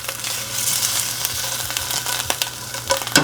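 Pork medallions brown in a hot pan, crackling with a bright, steady sizzle, dotted with sharper pops and spatters, close up with no talk.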